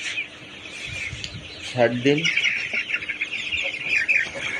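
Layer pullet chickens about 60 days old clucking and chirping in a busy flock, with one louder cluck standing out, while someone talks over them.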